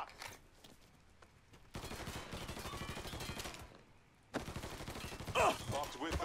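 Gunfire in the video game Mafia 3: after a quieter stretch, dense bursts of rapid shots erupt loudly, pause, then resume even harder, with a voice speaking in between.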